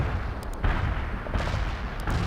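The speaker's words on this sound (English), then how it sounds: "Artillery barrage turned the target area into dust." Artillery barrage from the World in Conflict video game: shells fire and burst in a dense, rumbling volley of overlapping booms, loud and continuous, with several sharper blasts standing out through a constant heavy roar and no talk.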